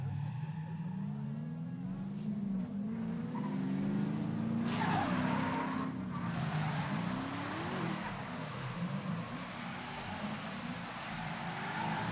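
Drift cars at a drifting event squeal their tires in a long, continuous skid, with engines roaring loud and close and a faint voice underneath.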